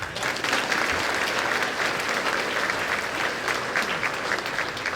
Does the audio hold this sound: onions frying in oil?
no